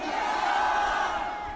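A large crowd at a political rally in Korea roars a sustained collective shout in response to the speaker, a dense, steady wall of massed voices lasting the whole moment.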